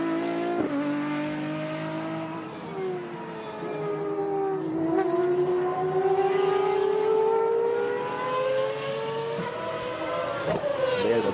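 Pagani and Porsche 935 race cars circle the Barcelona circuit with engines roaring steadily, pitch rising and falling through gear changes, a continuous loud drone with no break.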